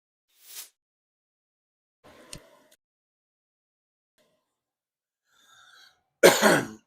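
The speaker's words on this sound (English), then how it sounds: "Didn't mean to cough into the microphone." A man coughs right into a livestream microphone, a harsh close burst near the end after a small earlier throat sound, with faint rustles and long near-silent gaps between.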